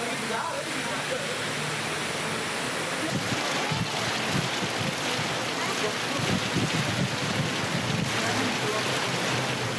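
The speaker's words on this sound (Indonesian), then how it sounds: "Hujan deras disertai angin kencang dan petir melanda seluruh wilayah di Kabupaten Maros, Sulawesi Selatan." Heavy rain with strong wind and thunder in Maros, South Sulawesi, a dense, constant roar of downpour and gusts filling the whole stretch at steady loudness.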